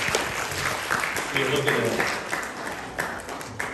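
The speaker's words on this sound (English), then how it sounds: "everybody's clapping" A church congregation applauds for a newborn baby girl, a broad spread of clapping from many hands that swells and fades while someone speaks over it.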